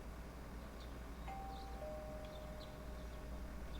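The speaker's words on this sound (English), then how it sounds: "I hear the doorbell ringing." A doorbell tone rings inside the Persona 4 Golden video game, heard as two long, steady chimes that overlap. They sound faint and thin over a soft, constant background hiss.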